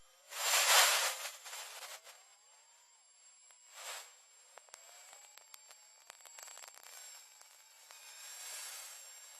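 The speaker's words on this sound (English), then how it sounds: "It's a sound of hot ionized particles generated by sunlight crashing into the atmosphere." A space recording of Earth's plasma hiss: eerie hissing static swelling and fading like slow breaths, with faint whistling tones and scattered crackles throughout.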